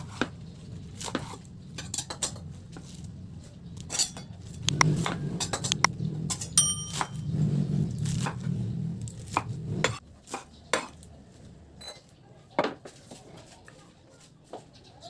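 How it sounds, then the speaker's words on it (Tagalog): A knife chops washed lettuce into small serving pieces on a board, a steady run of close, firm taps with a soft rustle of leaves, then a few scattered clinks. "Hiwain lang natin ng maliliit lang o pa-serving cut."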